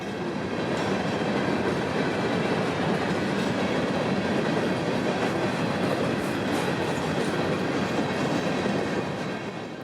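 A freight train on the Brooksville local near Tampa, pulled by 1990s locomotives, rolls past with a loud, steady rumble and continuous clickety-clack of wheels, close and unbroken throughout.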